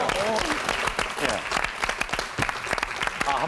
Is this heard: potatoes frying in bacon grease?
no